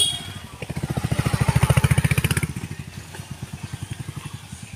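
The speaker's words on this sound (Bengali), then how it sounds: "তো দুটো বাইক গেল" Two motorcycles passing by on a road, a loud pulsing engine rumble swelling as one nears and passes, then a second fainter throbbing engine continuing as it moves off.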